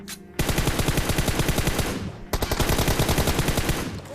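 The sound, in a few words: gunfire in a video game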